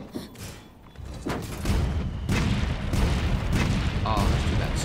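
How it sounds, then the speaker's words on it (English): Heavy cannon blasts from Monster Hunter World land as several deep booming thuds in a fight, spaced unevenly over a few seconds against a dense, rumbling battle din. "we're actually going to operate the cannons"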